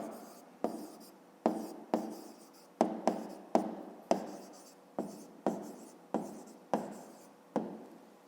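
Writing by hand on paper while working a fifth-grade math exercise, with about a dozen sharp taps and scratchy pen strokes repeating at a steady pace, close and fairly quiet, with no talking.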